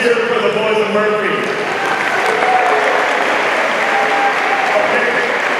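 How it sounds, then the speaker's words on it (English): An audience at a freshmen orientation closing ceremony applauds and cheers loudly and steadily for a group of boys on stage, dense clapping filling the whole stretch with shouts mixed in. "let's cheer for the boys of Murphy"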